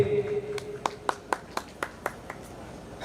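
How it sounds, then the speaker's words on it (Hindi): A handful of audience claps at a live Giddha Ramayan recitation, sharp separate hand strikes in a loose, uneven rhythm over a faint room hum, thinning out toward the end rather than building into loud applause. "जोरदार ताली बजाएंगे भाई इनके लिए"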